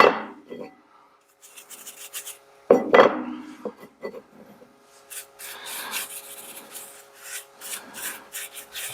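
Bristle brush rubbing paint onto a rusty Jaguar XKR suspension spring, close and dry-sounding with uneven scrubbing strokes, a sharp knock near the three-second mark and light handling clatter.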